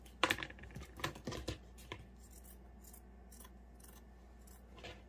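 Scissors snip through fabric to cut out a circle, a few quick close crisp cuts early on followed by softer intermittent rustling and handling.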